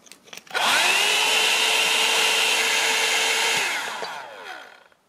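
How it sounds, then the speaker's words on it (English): A hand-held hair dryer, already partly melted from misuse, blows a steady loud whine with an even high airflow hiss for about three seconds before spinning down, used to heat a USB phone charger open. "let's try to open it using my hair dryer"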